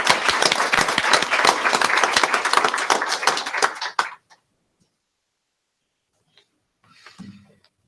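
Audience applause fills a school board of education meeting, a dense burst of clapping lasting about four seconds before cutting off, followed by silence and a faint rustle near the end.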